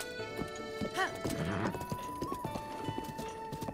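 Horse hooves clip-clopping in The Legend of Zelda: Breath of the Wild, a steady clear rhythm of game hoofbeats with a harmonic neigh-like call near the start, over background game music with no talk.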